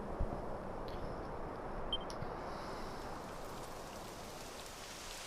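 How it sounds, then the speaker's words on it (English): Rain begins to fall in the Dragon Quest XI video game, a steady broadband hiss of rainfall that holds at an even level throughout, with a couple of faint brief chimes early on. "It would have to go and start raining, wouldn't it?"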